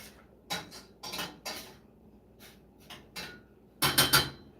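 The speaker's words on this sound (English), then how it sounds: "So I put the spices in, and just stir them around." A spoon stirs spices around in a metal cooking pot for a bean dish, giving a series of separate clanks and scrapes against the pot, with a louder cluster of rapid knocks near the end.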